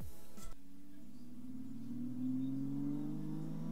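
A Nissan Silvia S14 sits on a street at a drift session, its engine holding a steady, droning rev that climbs gradually in pitch, loud and close, after a brief knock at the start.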